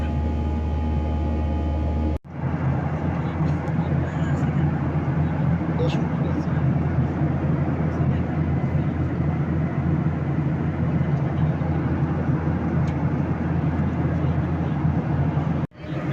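Cabin noise on a Biman Bangladesh Airlines airliner flying from Dhaka to Kathmandu: a loud, steady engine and air drone with a low hum, unbroken apart from two abrupt cuts.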